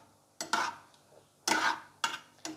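A spoon scrapes and stirs garlic paste into chicken manchurian in a pan, giving four or five sharp scraping strokes separated by brief quiet gaps, close and clear, with no talk.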